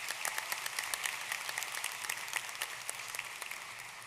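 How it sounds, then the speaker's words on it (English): Steady audience applause at a high school graduation ceremony in an arena, many hands clapping together in a dense, continuous patter at moderate distance. "Can we please have a round of applause for all these amazing individuals?"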